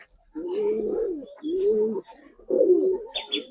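Giribaz pigeons coo in three low, rounded phrases with short pauses between them, close and clear, ending with a couple of brief higher chirps.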